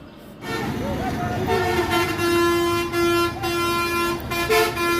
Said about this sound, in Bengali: আর এখানকার হর্নের আওয়াজে কান একদম ঝালাপালা হয়ে গেছে।